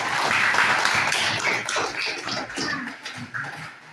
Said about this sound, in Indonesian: kasih tepuk tangan untuk dia